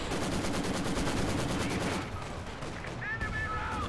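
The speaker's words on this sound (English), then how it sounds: "We got the heavy mortar just blazing away at the Schwerer Panzer" Heavy mortar and gunfire roar continuously in a Company of Heroes 2 match, a dense rattling barrage of rapid shots and blasts that thins out partway through, loud and close.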